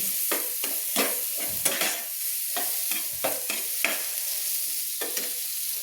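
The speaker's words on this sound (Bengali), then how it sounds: "এবার আমি দিয়ে দেবো দেখুন টমেটো" Chopped tomato fries in oil with masala for a tilapia curry, a steady sizzle broken by repeated scraping strokes as a spoon stirs the pan, close up and with no talking.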